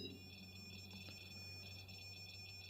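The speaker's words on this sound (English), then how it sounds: "Can you make it stop beeping, please?" A faint, steady electronic tone with high pitched pulsing beeps from a REM-Pod ghost-hunting sensor repeats over a low hum, with no voices.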